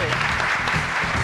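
Brief burst of studio audience applause on a Spanish quiz show, loud and dense, with a voice talking over it.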